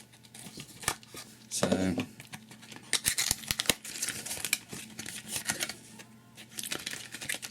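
RAM module packaging being unboxed for an iMac 5K upgrade: crinkling plastic, snipping and tearing sounds close by, in short irregular bursts, with a voice talking throughout.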